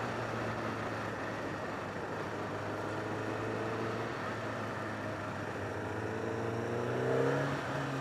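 Engine of a 2012 Kawasaki ZX-10R liter-class sport motorcycle, heard from the rider's position at steady first-gear revs, a loud continuous hum that climbs in pitch near the end.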